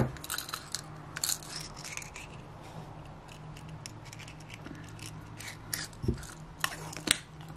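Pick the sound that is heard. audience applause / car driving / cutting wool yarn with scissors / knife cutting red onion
cutting wool yarn with scissors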